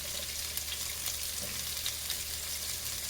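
Masala-coated fish fries in a pan over a low to medium flame, giving a soft, steady, continuous sizzle that stays faint and even throughout.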